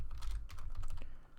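Quick run of computer keyboard keystrokes typing names into a spreadsheet, close and clear, a brief burst of clicks with no talk over it.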